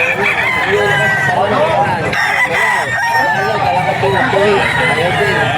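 Roosters and stags crowing and clucking amid a busy Bocaue pet market in Bulacan, several overlapping crows near and far, dense and loud, with people talking throughout.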